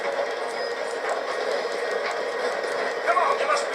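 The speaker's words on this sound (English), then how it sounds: "The train's slowing down" Train rumbling past in the open-world video game Red Dead Redemption 2, a steady continuous rolling roar with faint rhythmic clatter, loud and close throughout.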